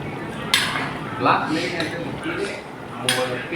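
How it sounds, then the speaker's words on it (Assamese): A spoon stirs a curd mixture simmering in a cooking pot, with soft scraping and a couple of sharp metallic clinks against the rim, close and fairly loud. "ভালদৰে লৰাই দিছোঁ।"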